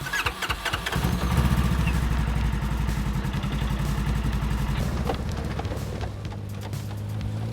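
A Razor side-by-side off-road vehicle engine in the desert starts up and runs with a steady, loud mechanical drone that holds through the clip, with faint voices underneath.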